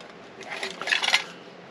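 A metal camp cup packed with a small meth stove, lighter and snuffer ring is handled briefly, giving a short run of light metallic clinks and rattles up close.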